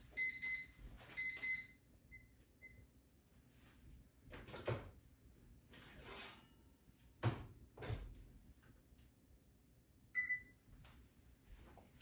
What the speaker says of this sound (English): Timer has gone off, so let me go get the cookies.